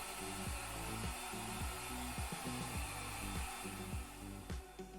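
A GoGo Mini hair dryer blows steadily up close while styling short hair with a round brush. The airflow roar is constant, with repeated rhythmic brushing strokes over it and no voices.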